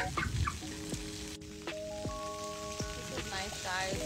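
Rain falling in a park, a steady soft patter and trickle of water on surfaces with faint tonal sounds mixed in, fairly quiet and continuous throughout.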